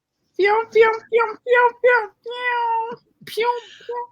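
A cat meows close to the microphone in a quick series of five short calls, then a longer drawn-out wail and a final rising meow, loud and clear against silence.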